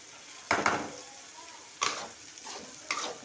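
Dried shark fish thokku cooking in oil, a soft steady sizzle broken by three sharp spoon-against-pan stirring scrapes at roughly even intervals.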